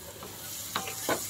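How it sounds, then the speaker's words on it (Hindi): Prawns shallow frying in a pan, a soft continuous sizzle with a few brief stirring scrapes, close and quiet, no talking. "झींगा है वो सेलो फ्राई हो रहा है"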